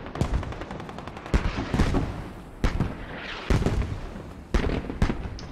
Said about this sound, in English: Spit mortars are now coming down.